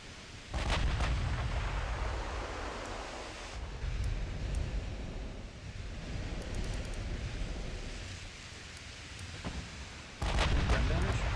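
16-inch battleship guns fire during a naval battle against cruisers in Ultimate Admiral Dreadnoughts, a planned Montana-class ship: heavy booming blasts rise over a constant roar of sea and wind, the loudest salvos at the start and near the end.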